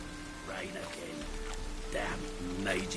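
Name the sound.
rain in the video game The Witcher 3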